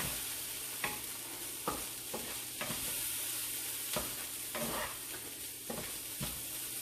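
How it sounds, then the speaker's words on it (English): Ginger and spices sauté in a pan for dairy-free chicken tikka masala, a soft continuous sizzle broken by regular scraping strokes of a utensil, quiet and alone without speech. "It'll become really fragrant once you start sauteing them"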